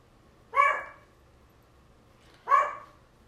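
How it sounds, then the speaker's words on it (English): A dog barks twice at a window, two short sharp barks about two seconds apart, fairly close, with quiet room tone between and no talking. "My dog loves to sit at the window and bark at everything that goes by."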